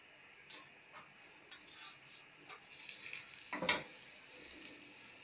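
Aloo paratha frying in oil on a griddle gives a faint, uneven sizzle with scattered soft crackles and pops, the loudest burst just before the four-second mark, and no one speaking.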